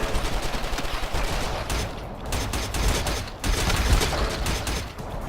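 Rapid gunfire from the video game Cortex Command rattles in dense bursts over several seconds, loud and close, with no voices.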